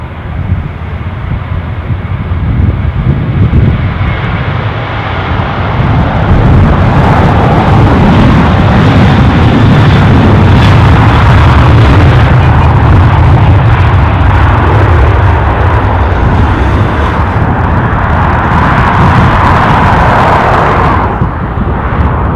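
A jet airliner taking off at Dublin airport, a loud, sustained roar that builds and holds for over twenty seconds before easing slightly at the end, heard from nearby without talk.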